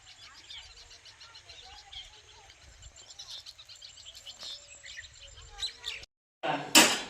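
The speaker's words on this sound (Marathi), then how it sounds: "पक्ष्यांचा इथे किलबिलाट चालला" Birds chirp and tweet faintly in a steady outdoor chorus, with a brief loud rustling burst near the end.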